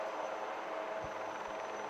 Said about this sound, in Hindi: आपके सामने आ गए हैं 2 एडवांस लाइट हेलीकॉप्टर खोज और बचाव ऑपरेशन प्रदर्शित करने के लिए